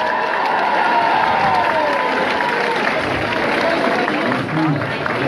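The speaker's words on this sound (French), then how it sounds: "Alors un max d'applaudissements pour Thierry." A race crowd at the start of an urban trail run in Caudry, France, applauds steadily, a dense wash of clapping mixed with voices that stays loud and continuous throughout.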